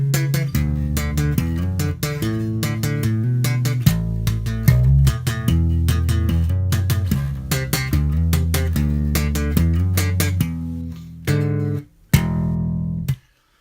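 A bass guitar plays a punchy slap riff, thumbed low notes alternating with snappy plucked notes in a steady groove, ending with a few sustained notes.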